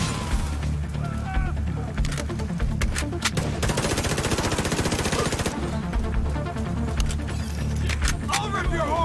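Automated turret in The Division 2 video game firing rapid, close bursts of gunfire, with a dense continuous stretch of rounds in the middle, mixed with game effects and a player talking.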